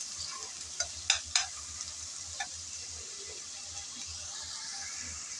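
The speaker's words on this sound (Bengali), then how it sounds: "আদা আর রসুন বাটা ভেজে নিলাম কিছুক্ষণ।" Ginger and garlic paste frying with onions for a winter-vegetable parshe fish curry: a steady soft sizzle with a few sharp scraping knocks of a spoon stirring the pan, close by.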